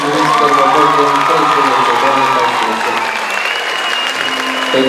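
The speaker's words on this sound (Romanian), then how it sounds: "Aplauze pentru Miss și Miss" Loud crowd applause with cheering and whoops at a high school freshmen's ball, steady and dense throughout, with music tones running underneath.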